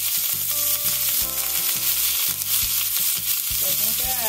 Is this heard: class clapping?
no